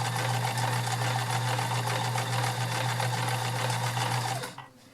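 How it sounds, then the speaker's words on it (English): A vintage Kenmore 1560 convertible free-arm sewing machine runs steadily on stretch stitch, giving a loud, even mechanical whir and rapid needle chatter that stops abruptly near the end. "you can see the fabric working up and back, because now it's in stretch stitch."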